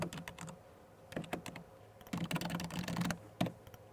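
Keys clatter on a computer keyboard during data entry in accounting software, with quick bursts of close, crisp clicks, short pauses between runs and a solid cluster of strokes near the end, with no talking.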